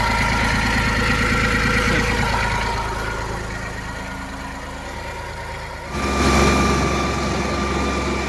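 A Mitsubishi GF 150 mini tractor engine runs steadily nearby with a continuous, even drone that dips slightly midway, then grows louder and rougher near the end.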